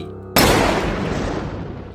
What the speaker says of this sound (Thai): เสียงปืน ดังสนั่นกึกก้องไปทั่วผืนป่า